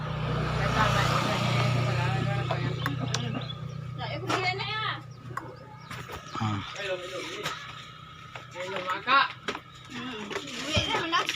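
A carbureted Honda Beat scooter engine turns over and starts, then settles into a steady low idle hum that runs underneath someone talking close by.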